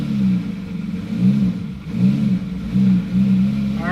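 A Fast & Furious Lamborghini engine bucks at low speed during a three-point turn, a deep, loud rumble that surges and dips in repeated uneven pulses with no talking.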